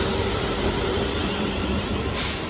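A diverted train passes close by in Northampton with a loud, steady rumble of wheels and carriages, a faint high whine riding above, and a sharp hiss near the end.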